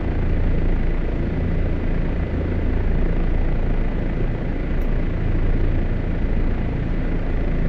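An OH-58D Kiowa helicopter in the DCS World flight game runs at maximum rotor RPM, a dense, steady engine-and-rotor roar with throbbing low pulses that fills the whole stretch, with no talk.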